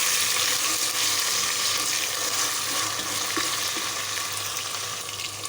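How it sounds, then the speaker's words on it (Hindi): Finely chopped tomatoes cook in a pan for dal, giving a steady, dense sizzling hiss that holds evenly throughout with no voices. "अब हम इसमें डालेंगे 2 अदद टमाटर, जिन्हें हमने बारीक काट लिया था, छोटे छोटे टुकड़ों में काट लिया है। इसे भी इसके साथ पकाएंगे"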